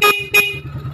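Two short, loud car horn honks in quick succession, followed by the low hum of an idling engine.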